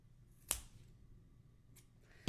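Scissors snip through gold yarn during crochet work, giving faint, crisp cuts: one clear snip, then a couple of lighter clicks, in an otherwise quiet room.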